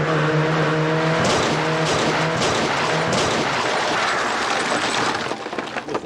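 A stunt car accelerates hard toward an impact point 300 metres away, aiming for 80 km/h; a loud, continuous engine roar rising in pitch, close and alone, with a sharp crash-like burst near the end.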